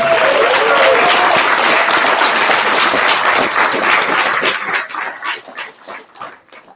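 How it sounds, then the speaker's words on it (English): Audience at a Startup Weekend Oslo final presentations event applauding loudly, a dense wash of clapping that gradually thins out into scattered individual claps before fading. "please, please give yourself a big applause for being here and working in your team"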